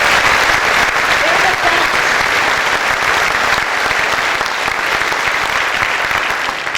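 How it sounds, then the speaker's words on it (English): A concert audience applauding the musicians after a live Gershwin performance, loud, dense clapping that holds steady throughout with faint crowd voices mixed in. "please give them a big round of applause"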